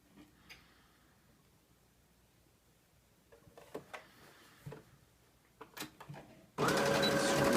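A sewing machine with a standard foot stitches a jumpsuit shoulder seam, starting with a loud steady rapid whir near the end after scattered clicks and handling sounds.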